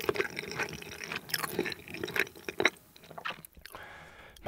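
Close, wet chewing of tuna mayo and raw tuna sashimi, with steady squishy bites and mouth sounds continuing throughout, plus occasional crunchy, sticky smacks and no talking.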